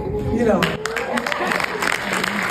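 An audience applauds in a dense patter of claps, fairly close and steady, while a voice talks over it and the clapping rolls on beneath.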